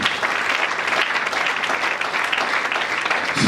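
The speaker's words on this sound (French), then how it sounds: "Acclamons pour le Seigneur." A church congregation applauding, a dense, continuous clatter of many hands clapping together, steady and lively throughout.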